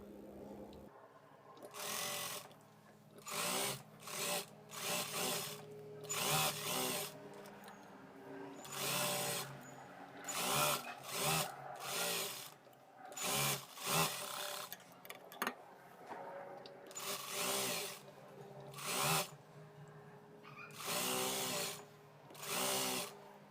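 A sewing machine stitches a lining piece onto a katori blouse in repeated short runs, its rapid mechanical whirr starting and stopping close by with brief quiet gaps between bursts.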